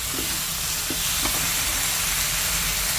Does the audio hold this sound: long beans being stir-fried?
yes